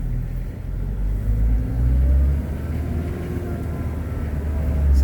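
The engine of a 1995 Nissan Atlas fire truck revs in first gear, a steady loud low rumble that swells and holds with the cab's road noise, and nobody speaks.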